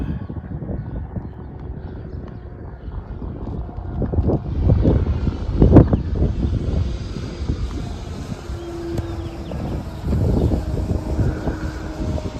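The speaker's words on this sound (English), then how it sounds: "Just trying to track a straight line, and this plane liked to weave up and down." An RC P-38 model plane flies overhead with a buzzing engine drone that rises and falls as it weaves, mixed with gusty wind noise on the microphone.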